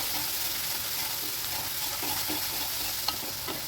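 Chana dal and besan mixture with onion, garlic and masala sautéing in a pan, a steady close sizzle with faint scraping stirs and a small clink near the end, no voices.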